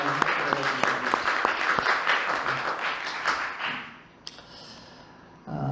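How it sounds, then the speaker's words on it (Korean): A church congregation claps for its choir during a Sunday service, sustained applause with a few sharp individual claps standing out, fading after about four seconds to a quieter room with a thump. "박수로 크게 격려하겠습니다"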